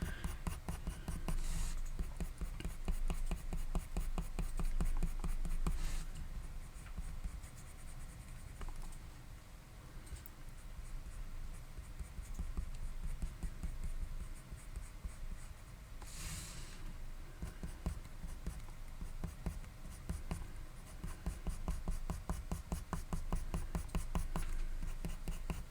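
A pencil makes rapid, short, stubby strokes on paper while drawing husky fur, a continuous close scratchy patter with a few louder swishes and no talking.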